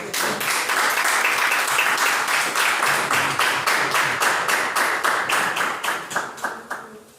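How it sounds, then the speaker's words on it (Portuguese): Church congregation at a Friday worship service claps in unison, a strong regular beat of synchronized hand claps that slows and fades out at the end. "as palmas louvam ao Senhor"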